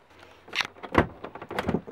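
A motorhome door being handled and its fitted door catch engaging, giving a few close, sharp clicks and knocks with brief rattles, quiet in between and no talk.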